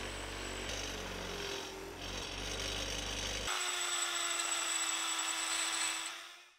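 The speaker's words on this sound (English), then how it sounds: "then cleaned up the outside on the wire wheel." A wire wheel grinds the outside of a Triumph TR7 brake cylinder, a continuous close whirring scrub with a steady motor hum that shifts pitch midway, then winds down.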